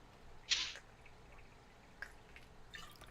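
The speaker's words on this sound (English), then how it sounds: "I will also drink water then" A short splashy sip sounds once as a character drinks water in a video game, faint and quick over a quiet background, followed by a couple of soft clicks.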